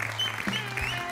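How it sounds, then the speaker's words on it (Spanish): Studio audience applauding on an Argentine TV talk show, a steady wash of clapping for about a second with some overlapping background sound, moderately loud. "Un aplauso continuo. Continúa el aplauso."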